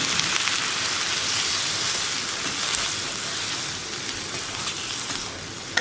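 Water hits hot cauliflower masala in a pan, producing a dense, even hiss and sputter that runs steadily throughout at close range, with no speech.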